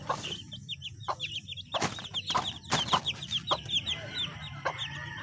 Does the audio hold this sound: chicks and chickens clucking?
yes